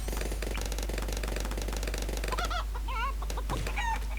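Chickens cluck and squawk in short bursts over a busy, clattering electronic background with a steady low hum.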